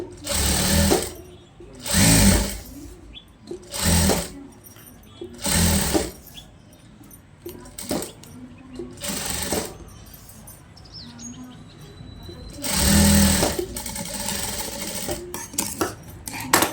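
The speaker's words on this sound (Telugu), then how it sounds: "ఇలాగా లేస్ అయితే అటాచ్ చేసేస్తున్నా ఒక స్టిచ్ అయితే వేసేసి" A sewing machine stitches lace onto a long frock, running in short loud whirring bursts of a second or so, about six of them separated by quiet pauses, with one longer run near the end.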